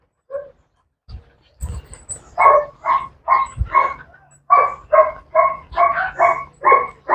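A dog barks repeatedly in quick, excited bursts, close and loud, with a few short yips at the start.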